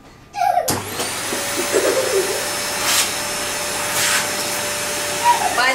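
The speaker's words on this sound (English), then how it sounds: "she's taking the head off the vacuum cleaner" A household vacuum cleaner switches on abruptly and runs with a steady, loud whine and hum, its pitch shifting slightly a few times as it is pushed around close by.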